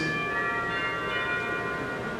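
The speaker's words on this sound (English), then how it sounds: "Chimes," Chimes on a Meyer Wurlitzer theatre organ ring out in sustained, bell-like tones with a lingering shimmer, steady and moderately loud, without voices.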